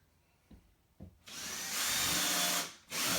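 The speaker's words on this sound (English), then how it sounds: "take my trusty drill" A power drill bores into a wooden wall stud, with two brief taps first and then a loud, sustained whirring grind that cuts out for a moment and starts again.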